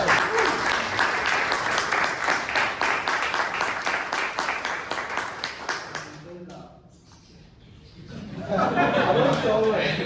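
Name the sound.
audience applause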